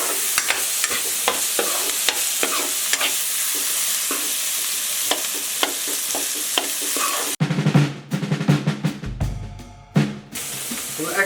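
Onions and green chillies fry in a pan with a steady close sizzle and frequent stirring clatter; near the end the texture turns rougher, with louder scraping bursts.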